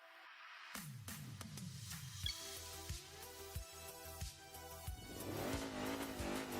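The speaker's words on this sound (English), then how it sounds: "Got a legacy wagon. Boxer 4 turbocharged." A turbocharged boxer-four Subaru Legacy wagon with four-wheel drive revs and accelerates at Tsukuba Circuit in the racing game Enthusia Professional Racing, engine tone rising through gear shifts with short tire squeals.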